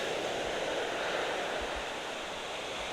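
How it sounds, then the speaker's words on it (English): Small ocean waves roll in at a beach near Vero Beach, a steady broadband wash of surf with faint wind, constant and unbroken, no voices over it. "It looks like the waves are a lot smaller this morning."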